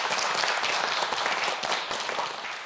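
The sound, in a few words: studio audience applause on quiz show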